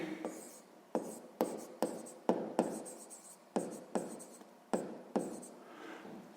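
Handwriting on paper while working a sixth-grade maths exercise, a quiet close series of about a dozen short, sharp pen strokes and taps in an uneven rhythm, with no talking.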